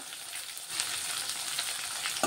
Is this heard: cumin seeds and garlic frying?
yes